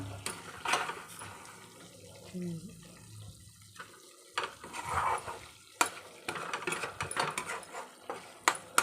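A spoon stirs masala frying in a pan for a chicken sherva curry, giving soft sizzling and scraping with a few sharp clinks. A voice speaks over the cooking now and then.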